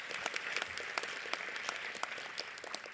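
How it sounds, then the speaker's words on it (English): An audience at a STEM summit applauds participating students, a dense, continuous patter of many hands clapping at a moderate distance. "let's give a round of applause for all the students that participated today"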